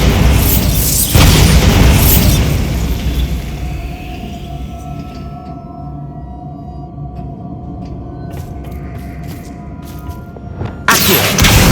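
The Bombarda blasting spell in Hogwarts Legacy goes off as a loud, booming explosion at the start, trailing into a low rumbling decay, with another sharp burst near the end.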